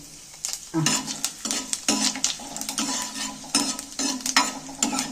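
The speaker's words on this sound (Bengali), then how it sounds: "তেলটা গরম হয়ে গেছে এইবার মশলাগুলো আমি সব মশলাগুলো একবারেই দিয়ে দিচ্ছি" Whole spices frying in hot oil in a wok crackle under repeated scraping stirs and metal clinks of a utensil against the pan, close and rhythmic, with no talking.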